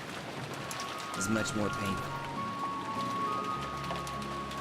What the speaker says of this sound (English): At some point, it had started raining around the storehouse.